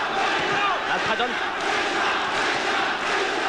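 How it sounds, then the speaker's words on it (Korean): Crowd at a 1991 boxing bout between Eloy Rojas and Young Kyun Park roars and cheers steadily throughout, a dense, loud arena din with shouts rising within it. "환호하는 관중들."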